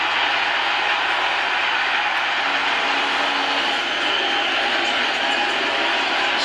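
A baseball stadium crowd in San Diego roaring for a Team USA home run at the World Baseball Classic, a loud, dense, unbroken wall of cheering throughout.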